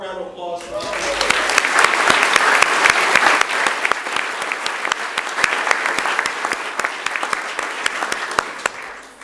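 A room full of people at a city board of mayor and aldermen meeting breaks into loud, sustained applause that swells quickly and holds steady, with individual sharp claps and some voices mixed in.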